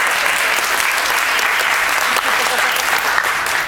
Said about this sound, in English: You may applaud if you think that's appropriate.